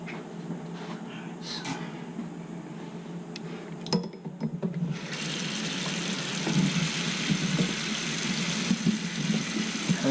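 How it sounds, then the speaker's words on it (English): Water pours steadily from a leaking Kohler faucet, a constant rushing splash that grows louder and brighter partway through, with faint voices underneath. "I can't even use my faucet. It's a flood."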